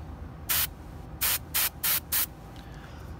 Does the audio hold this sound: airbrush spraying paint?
yes